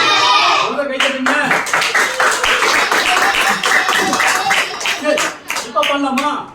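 Children clap along during a Sunday class song session, a steady run of sharp hand claps mixed with singing and talking voices throughout.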